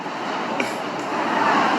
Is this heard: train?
yes